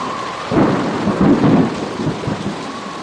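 Thunderstorm sound effect in a horror audio story: heavy rain pours steadily while rolling thunder rumbles and swells loudly near, with no voices.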